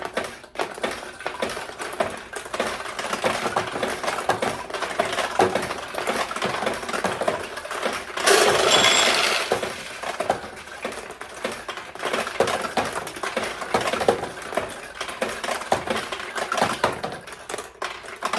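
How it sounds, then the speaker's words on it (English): Balls being launched in a restored mid-1970s vintage pachinko machine, a steady, dense clatter of rattling metal balls with rapid ticking, plus a brief louder burst of chiming mid-way, no talking. "So I'm just going to launch a bunch of balls and see if we can get some wins here."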